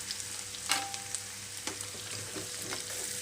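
Onion pieces and slit green chillies frying in tempering oil, a soft steady sizzle broken by several quick scraping stirs and utensil taps, close and quiet with no voices.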